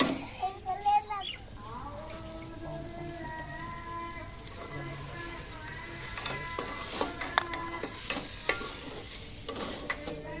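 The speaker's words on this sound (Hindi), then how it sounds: "आलू जो मैंने ऐड कर दिए हैं और अच्छे तरीके से हम इसे मिक्स कर लेंगे।" Potatoes are stirred into masala frying in a pan, a steady sizzle under repeated scraping and clinking of the spoon, with a voice and a faint call heard in the background early on.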